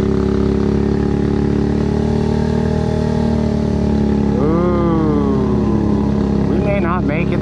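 A monster truck churns wheel-deep through a 32-inch mud bog. Its loud engine holds a steady, heavy drone and then surges into revving bursts near the end.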